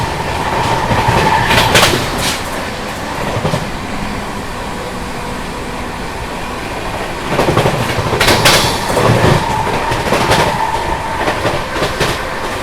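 A fast-moving Sampoorna Kranti Express, 12393, rolls along the track: loud, close rhythmic clickety-clack of wheels over rail joints in bursts, over a constant rumbling roar, with no talking.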